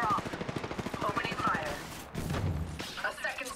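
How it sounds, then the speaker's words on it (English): Rapid video game gunfire rattles in quick bursts from two directions, close and loud, with a player talking over parts of the shooting. "Being shot from two directions."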